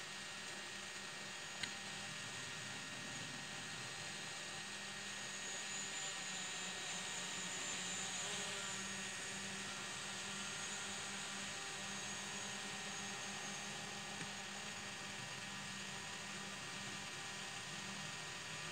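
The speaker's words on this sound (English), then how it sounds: "Doing my very best not to crash my drone" A drone flying under a bridge gives a steady, dense whirring drone that holds nearly constant throughout, loud and close with no voices.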